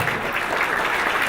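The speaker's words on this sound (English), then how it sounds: "Let's give a round of applause." Brief, dense applause from an audience at a service with Cantor Alberto Mizrahi, even clapping held at a steady level throughout.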